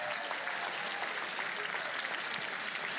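A crowd claps steadily at a charity fundraiser auction after a lot is sold. The dense applause holds at an even, full level throughout.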